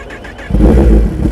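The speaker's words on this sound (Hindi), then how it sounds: "बाइक की आवाज सुनना गाइस।" A superbike engine revs hard at a drag race start line, starting from a quiet idle and then surging into a loud, sustained, close-up roar that holds through to the end.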